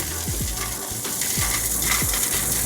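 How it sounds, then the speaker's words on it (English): Wood pellets poured into the hopper of a Pit Boss Lexington 540 pellet grill: a steady, close rattling hiss of pellets with a few low knocks and thuds throughout. "We're gonna go ahead and get this hopper filled up"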